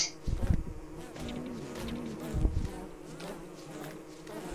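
Bees swarm around a beehive in the Don't Starve video game, a faint, steady buzzing with a few soft thumps mixed in.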